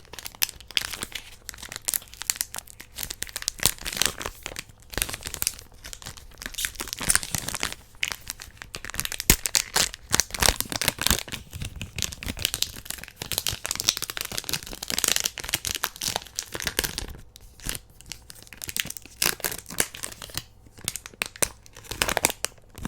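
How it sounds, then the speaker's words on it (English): A pack of NBA trading cards being torn open up close, with continuous crinkling and tearing of the foil wrapper, dense rustles and crackles that rise and fall over a long stretch. "let's do a quick, hopefully quick little pack opening for you guys"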